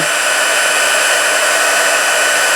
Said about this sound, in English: this heat tool gets very hot really quick